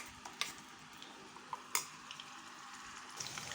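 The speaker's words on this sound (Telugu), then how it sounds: "మనం వేసుకున్న మసాలా బాగా ఫ్రై అయ్యేంత వరకు ఇలా మధ్య మధ్యలో కలుపుతూ ఫ్రై చేసుకోవాలి" Masala sizzles steadily in hot oil in a pan, a soft continuous frying hiss broken by a few light scrapes and taps of stirring.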